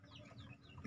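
A mother hen and her newly joined chicks cluck and peep softly, with faint overlapping high chirps over low murmuring clucks in a quiet close setting.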